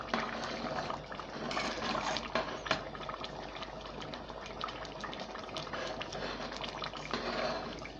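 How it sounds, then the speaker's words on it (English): Thick Ogoni pumpkin leaf soup being stirred in a pot, a steady wet, bubbling liquid churn that stays dense and continuous throughout, close and fairly loud, with no talking. "And I'm stirring it now."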